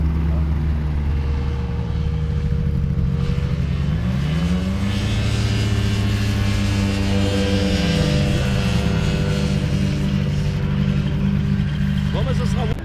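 An ultralight aircraft flying a circuit over a runway drones steadily and loudly, its propeller engine pitch rising and falling in smooth sweeps as it passes, while people talk intermittently nearby.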